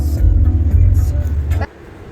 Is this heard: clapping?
no